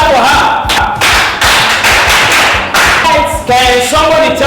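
An audience at a comedy show claps in loud, dense bursts that stop and restart several times, with a voice speaking in the short gaps.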